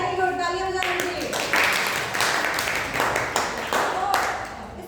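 Classroom students break into a dense burst of clapping that runs for several seconds after a teacher's voice, with talking continuing underneath the applause.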